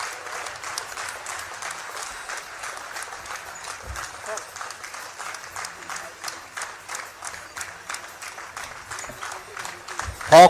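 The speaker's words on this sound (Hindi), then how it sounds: "जोरदार तालियों से स्वागत करिए पीछे तक" A large crowd at a religious festival gathering applauds a police officer's promotion, dense steady clapping that keeps going for about ten seconds with a brief voice at the very end.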